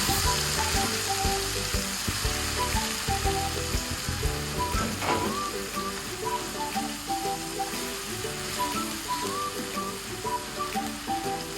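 Onion fries in oil for a hilsa fish curry, a steady close sizzle running throughout with faint clicking and scraping under it, and no talking.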